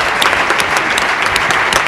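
Dense, loud applause from an audience at an awards ceremony, a continuous wash of clapping hands that holds steady for a couple of seconds.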